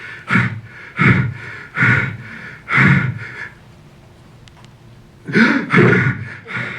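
A person imitates Cheyne-Stokes breathing, the sleep-time breathing pattern linked to sleep apnea: four loud, breathy gasps in a steady rhythm, a pause of near silence, then two more breaths starting again, close and alone.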